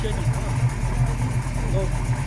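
A 7.2-litre car engine idles close by with a steady low rumble and slight pulsing, rated around 375 to 400 horsepower and fitted with a sport exhaust, while people talk over it.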